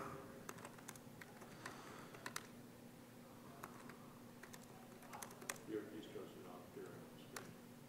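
Quiet keyboard typing comes in scattered clicks and short bursts at a computer terminal, faint and a little distant, with a low hum in the background.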